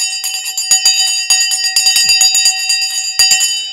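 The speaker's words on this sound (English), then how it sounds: "The bell has now gone. This is the Martyn Lucas Investor Stock Exchange bell." A stock exchange closing bell rings continuously in rapid metallic strikes, loud and close, with no talk over it.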